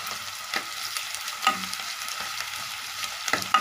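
Garlic paste being stirred into onions frying in a pan for kadhi, with a steady close sizzle and scattered scraping spoon strokes and clinks, no talking.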